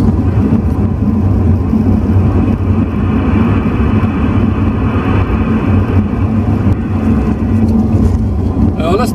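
Car tyres rumbling over grooved, scraped asphalt on a road, a loud continuous low drone of road noise and engine inside the vehicle, steady throughout.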